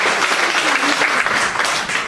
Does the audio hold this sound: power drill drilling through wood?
no